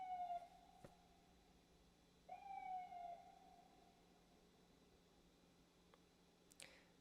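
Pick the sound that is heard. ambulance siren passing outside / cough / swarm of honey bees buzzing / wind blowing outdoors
ambulance siren passing outside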